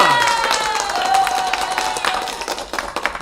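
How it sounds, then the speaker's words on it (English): Applause from a small live audience at a song review session, dense clapping that thins into scattered claps toward the end, with a voice briefly over it. "Round of applause."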